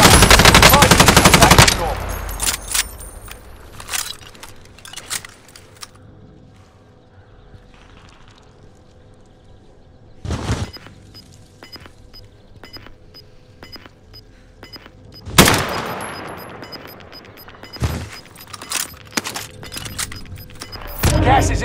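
KG M40 rifle in an online battle royale shooter, loud bursts of automatic gunfire in several separate volleys with quieter game sounds and clatter between them.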